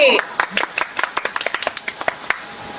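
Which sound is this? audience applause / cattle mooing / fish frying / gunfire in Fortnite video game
audience applause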